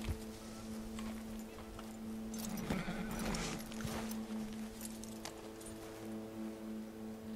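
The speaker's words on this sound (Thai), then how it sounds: "พี่ม้า" Horse hooves clip-clop at a walking pace in Red Dead Redemption 2, soft and fairly close over a steady ambient hum, with a brief snort or whinny partway through.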